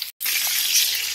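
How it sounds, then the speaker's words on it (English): Pork ribs fry in a hot pan, a dense steady hiss and sizzle after a brief gap at the start, close and continuous. "Right here, I am cooking. I'm frying the ribs."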